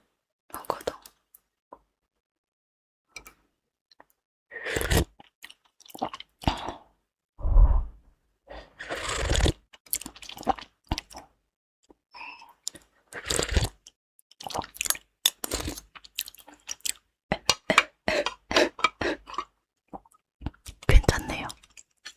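Crunchy vegetables in spicy mala tang are bitten and chewed up close in irregular crisp bursts, with soft whispered talk between mouthfuls in an otherwise quiet room.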